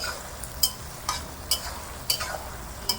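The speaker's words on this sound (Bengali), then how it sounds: "পেঁয়াজগুলো ভালো করে তেলের সঙ্গে মেশাচ্ছি" Onions sizzle in hot oil as a spoon stirs them in a pan for a Bengali-style desi chicken dish, with regular scraping strokes over a constant frying hiss and no voices.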